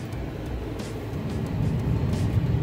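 A car drives along a road in Key Largo, Florida, with a steady low engine and tire rumble that swells slightly toward the end, and faint brief rattles above it.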